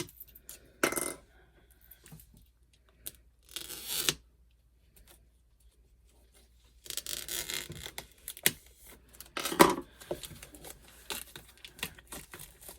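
A paper craft card kit for a pumpkin-themed October project is opened in short bursts of crinkling and tearing packaging, separated by quiet pauses, close and fairly soft.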